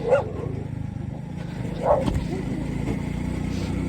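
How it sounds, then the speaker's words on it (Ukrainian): A dog barks twice, a few seconds apart, over the steady drone of a motorcycle being ridden, heard from the rider's point of view. "Ой, там уже до не прив'язана собака"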